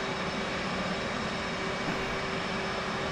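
An F/A-18 jet engine idles in the DCS World flight game during a cold start with the right engine running, a loud, steady roaring drone with a constant whine.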